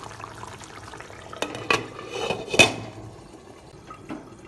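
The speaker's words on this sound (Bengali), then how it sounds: "এবার ডিম দেওয়ার পর একটু হালকা আমি নাড়িয়ে নেব" Eggs poached in curry gravy are gently stirred in a pan, giving soft scraping and clinking spoon touches with a couple of louder knocks over a low simmering background.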